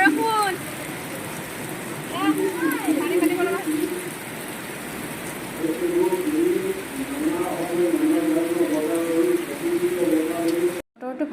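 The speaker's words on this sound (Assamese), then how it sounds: "বতৰটো ভাল বুলি কওঁতে দেখিছেনে কেনেকৈ বৰষুণ জাক দি দিলে" A heavy rain shower at a namghar makes a steady, dense hiss throughout, with scattered bird chirps and calls rising above it before the sound cuts off abruptly near the end.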